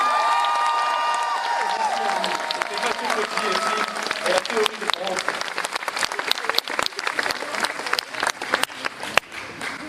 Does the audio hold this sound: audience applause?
yes